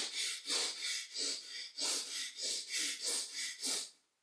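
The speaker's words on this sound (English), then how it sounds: "I'm actually going to blow out using my cheeks while I sneak a breath of air in through the nose" Circular breathing for didgeridoo: cheeks pushing air out while quick breaths are drawn through the nose, about seven wheezy, rhythmic cycles, close and fairly quiet, ending in silence.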